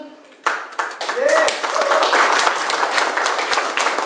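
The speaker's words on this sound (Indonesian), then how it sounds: "Siapa saja kita coba panggil kita sambut dengan tepuk tangan." An audience breaks into lively clapping to welcome a speaker, starting abruptly and carrying on as a full, steady applause close to the microphone, with some voices mixed in.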